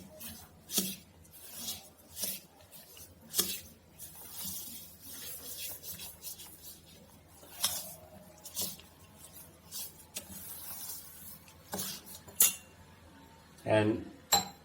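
Spoon scraping and clinking against a bowl while rava (semolina) is stirred with curd for idli batter, with irregular taps and rubbing sounds throughout and faint talk in the background.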